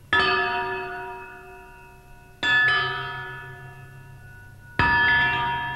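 Metal spoons hung on a string telephone ring like church bells, three separate strikes each leaving a long, clear, shimmering decay, heard alone and fairly quiet.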